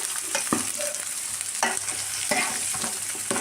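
Two large onions and four green chillies fry in a pan, a steady close sizzle broken by the scrape and clack of a spoon stirring them now and then, with no voices.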